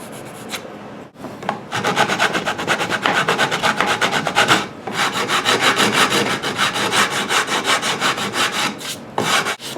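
A wooden guitar neck being shaped with a file and sandpaper, dense rhythmic rasping strokes repeated close up and loud, with a couple of brief pauses between passes.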